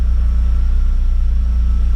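Mazda Miata engine idling after a cold start, a steady low throbbing rumble recorded close, even and continuous with no talking.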